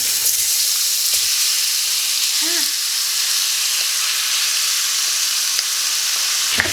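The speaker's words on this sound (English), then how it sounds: "You don't want it to stop sizzling." Enchiladas fry in a very hot pan on a comal, giving a steady, loud sizzling hiss that stays constant throughout.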